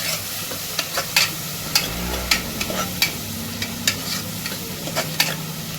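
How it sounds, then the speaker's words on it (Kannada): Onions fried until brown alongside potato, beans and carrot, sizzling steadily while a spatula knocks and scrapes the pan in a fairly regular rhythm of sharp taps. "ಇದು ಬ್ರೌನ್ ಕಲರ್ ಬರೋವರೆಗೂ ಫ್ರೈ ಮಾಡ್ಕೊಳ್ಳೋಂಥ ಸ್ವಲ್ಪ"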